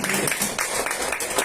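Congregation at a church service clapping loudly together, a dense continuous patter of many hands with a voice talking over it.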